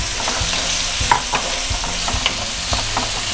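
Black chickpeas go into a hot pan with curry leaves for a chana chaat, a steady sizzle broken by repeated scraping and knocking as a spoon stirs them around.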